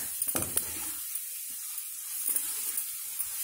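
Masala for an egg drop gravy fries quietly in oil in a pan, a soft steady sizzle with a few light scraping stirs near the start.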